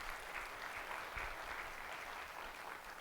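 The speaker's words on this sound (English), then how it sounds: "Can we give him another round of applause?" Audience applause after a conference talk on FinOps, a dense, steady wash of many hands clapping that holds at an even level throughout with no voices standing out.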